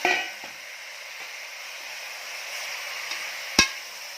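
Mutton frying and sizzling in a pan with turmeric as it is stirred, a steady close hiss broken by a few scrapes and a sharp knock of the utensil against the pan.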